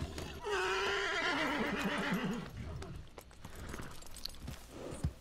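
A horse in the Red Dead Redemption 2 video game gives one loud, long, wavering whinny, followed by softer hoof clops and snorting shuffles close by.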